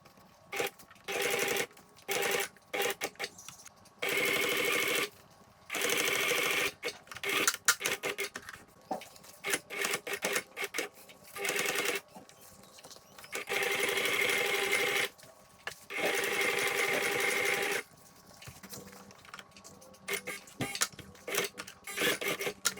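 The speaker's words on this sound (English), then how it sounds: "So I'll sew these 3 pieces together and then I'll sew it all to the top." Upholstery sewing machine stitching vinyl pieces together for an XS650 motorcycle seat, running in repeated bursts of steady whirring separated by pauses and handling rustle, close and clear.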